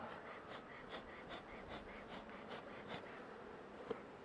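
Honey bees humming steadily around an old beehive, a dense continuous buzz with faint pulsing swells and no talk over it.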